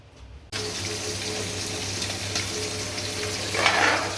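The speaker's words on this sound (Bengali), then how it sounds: "ওদিকে একবারে মাছটাও ভেজে নিচ্ছে" Fish frying in a pan at home, a steady close sizzle and crackle that starts abruptly after a brief quiet moment and swells louder near the end, with a faint clink of stirring.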